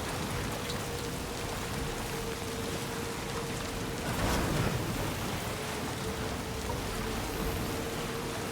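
Timefall rain in the video game Death Stranding 2 falls as a steady, even hiss of heavy rain on the ground. It swells briefly near the middle and plays alone without voices.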